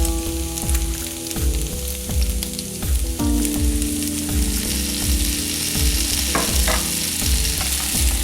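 Tempeh with vegetables and a splash of soy sauce sizzles steadily in a pan while a utensil stirs it in a regular scraping rhythm, close and fairly loud, with no voices.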